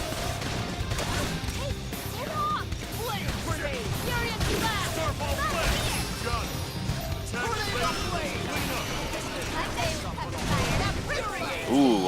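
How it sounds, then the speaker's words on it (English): In the video game Xenoblade Chronicles X, a Beam Barrage attack rattles off rapid blasts and crashing impacts over dense battle effects and music, loud and continuous, with voices in the game mixed in. "let's use Beam Barrage"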